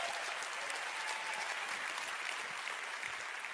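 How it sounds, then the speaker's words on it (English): An audience breaks into a big round of applause, a dense, steady wash of many hands clapping at once that holds at full strength for several seconds with no voices over it. "Huge round of applause."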